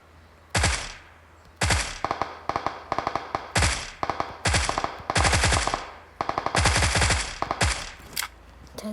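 Automatic gunfire in the battle-royale video game PUBG comes in repeated loud, close bursts of rapid shots with short pauses between them and an echoing tail.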